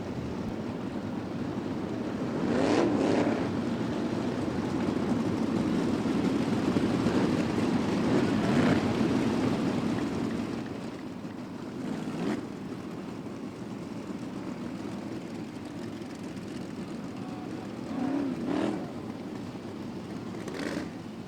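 Sprint cars at the Top Gun Sprints Don Rehm Classic form up on the racetrack for a 25-lap special event, a broad, continuous engine rumble with a few louder passes rising above the steady roar.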